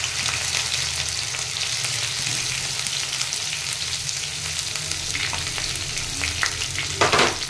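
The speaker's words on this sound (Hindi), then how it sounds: "डाल दी, इसको हल्का ब्राउन होने तक फ्राई करूंगी" Chili and onion paste frying in hot oil, a constant loud sizzle with a few sharp stirring clatters near the end, no one talking.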